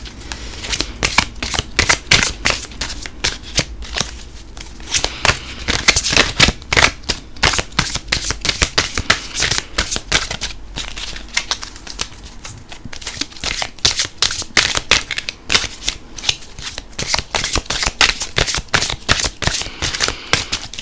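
Tarot cards are shuffled by hand in quick, crisp riffling bursts that repeat steadily for about twenty seconds, close up, with no voices.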